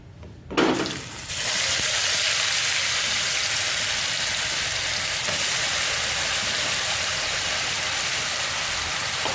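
Chopped onion dropped into hot oil already seasoned with asafoetida, for Gujarati-style masala macaroni pasta: a brief burst as it hits the pan, then a loud, steady, close sizzle that holds evenly throughout.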